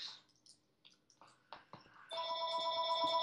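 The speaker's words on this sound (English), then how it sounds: "My phone's ringing." After a few faint taps and clicks, a phone starts ringing with a steady, bright electronic tone that continues at a constant level to the end.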